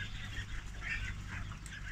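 Ducks on a farm, near their feed and a water tap, give scattered calls over a steady low hum that runs through the whole stretch.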